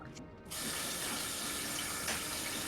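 Steady broadband rush of a tap running into a sink, coming through a Minecraft player's voice chat; it starts abruptly after a brief quiet moment and continues loud and unbroken to the end.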